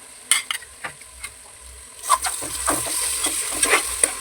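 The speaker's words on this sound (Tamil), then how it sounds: "நல்லா வெங்காயம் கூட சேர்த்து அதோட பச்சை ஸ்மெல் போகிற அளவுக்கு ஃப்ரை பண்ணிக்கலாம்" Ginger-garlic paste and onions frying in a pan, giving a few sharp scrapes and taps at first, then a steadier sizzle with repeated stirring strokes, close and moderately loud with no talk.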